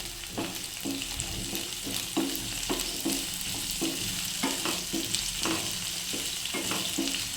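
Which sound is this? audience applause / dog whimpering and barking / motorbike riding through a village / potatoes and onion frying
potatoes and onion frying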